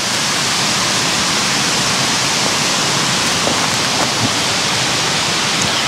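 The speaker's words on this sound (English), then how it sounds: "the waterfall." A waterfall at Ricketts Glen State Park, heard as a loud, constant, close roar of falling water that fills the whole clip without a break, with no voices.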